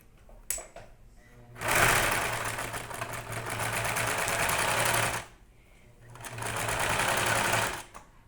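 A sewing machine stitching a seam around a cloth bird, running in two long, loud, steady bursts of rapid mechanical needle chatter with a short pause between them.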